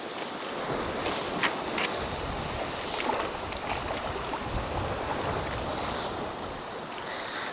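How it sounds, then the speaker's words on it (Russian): Sea waves wash against the rocky shore of a small bay near Anapa in winter, a steady broad rushing surf with light wind, continuous and fairly close, without talk. "Пока посмотрите на море,"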